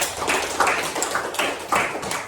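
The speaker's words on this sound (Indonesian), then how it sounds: "Tepuk tangan untuk Afifah." Applause in a classroom, a short burst of scattered hand claps at moderate volume with irregular rhythm, no talking over it.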